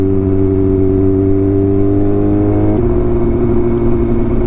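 A motorcycle engine running on freshly changed Amsoil performance oil gives a loud, close, steady droning rev with strong harmonic tones, shifting pitch partway through as the engine speed changes.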